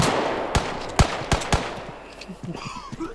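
Gunfire from a gun in the video game Deadside: four sharp shots spaced about half a second apart, fairly loud, followed by quieter clicks and rattles.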